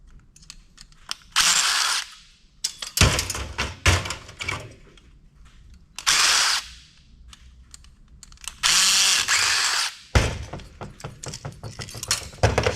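Power tool buzzing in several short bursts as it backs small screws out of a Dell Optiplex 790 computer fan, loud and close, with metallic clinks and handling noises between the whirs.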